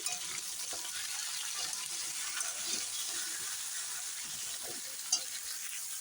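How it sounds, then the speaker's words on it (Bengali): Vegetables sautéing in a pan with salt and turmeric, a low steady sizzle with faint stirring scrapes and one brief clink. "ওইদিকে ডালটা সেদ্ধ হচ্ছে এদিকে আমি সবজিটা কষিয়ে নিচ্ছি"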